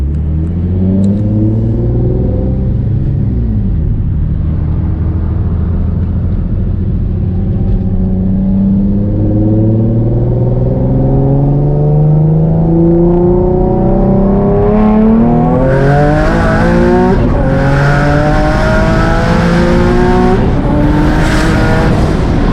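A single-turbo Nissan 350Z makes a second-gear pull on canyon roads, its engine note climbing loud and steady through the revs, with bursts of hissing turbo noise near the end.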